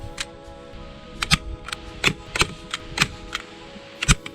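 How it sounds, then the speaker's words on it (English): A staple gun fires repeatedly as felt is stapled down onto a table top, giving a string of about a dozen sharp, close mechanical snaps at an uneven pace, with no one talking. "then I started stapling it down with the staple gun"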